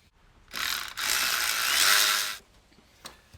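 A ratchet cranking to loosen a hose clamp on the air box of a 2015 Chrysler 200C 2.4L, two loud close bursts of rapid clicking, a brief stop between them, then a couple of faint clicks.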